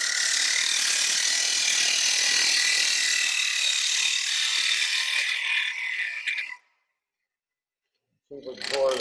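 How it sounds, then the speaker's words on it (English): A 1/4 inch bowl gouge cutting wood on a lathe gives a loud, steady, harsh scraping hiss that runs unbroken, cuts out abruptly into silence, then briefly starts again. "I'm going to take a 1/4 inch bowl gouge. I'm going to come in and I'm going to see if I can clean up that face."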